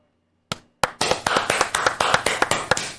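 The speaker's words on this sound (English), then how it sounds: "Where's the clap sound when we need it?" A clapping sound effect plays on a livestream after a single sharp tap. About a dozen crisp, evenly paced hand claps follow close and loud, with no talk over them.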